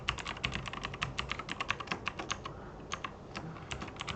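Rapid clicking keystrokes on a computer keyboard as a long password is typed, a close, irregular run of taps with a brief pause before more keys resume.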